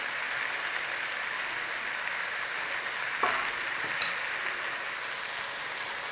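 Floured meat searing in a hot pan, a steady broadband sizzle and hiss held at an even level, with a single soft knock partway through and no talking.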